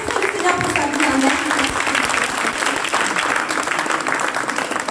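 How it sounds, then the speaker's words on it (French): A teen church congregation applauds during a youth worship service, steady dense clapping filling the room throughout with faint voices mixed in. "Vous allez applaudir le Seigneur pour sa vie."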